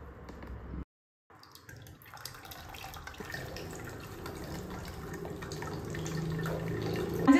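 Camel milk and lye mixture poured into a Manjistha soap mix, a steady close liquid pour that runs continuously after a brief silent gap near the start, building slightly louder toward the end.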